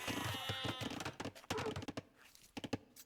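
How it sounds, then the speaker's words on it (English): Sheep bleat in a video game, a series of close, wavering bleats layered over busy game sounds and light clicking, with no talking. "Grey did not have a lot of sheep"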